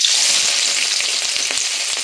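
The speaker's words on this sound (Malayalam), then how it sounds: "ചട്ടി വെച്ച് ചൂടായിട്ട് ഇതിലേക്ക് സവോള ഇട്ട് കൊടുക്കാം" Onions sizzle and fry in a hot pan, with a steady bright crackle throughout and a few light scrapes of stirring, close and loud, with no voices.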